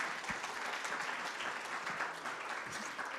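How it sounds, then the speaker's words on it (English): A crowd at a talk on physical health after bladder cancer gives a round of applause, a steady, soft patter of many hands clapping that sounds somewhat distant and continues evenly throughout. "let's give them a round of applause."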